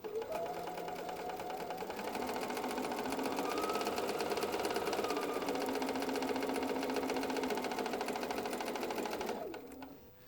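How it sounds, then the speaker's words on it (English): A sewing machine stitches a bias seam across a kaleidoscope quilt block, a close, even, continuous hum running without a break for about nine seconds before stopping. "Remember that you're sewing a bias seam, so you're not pulling on your fabric at all when you sew this"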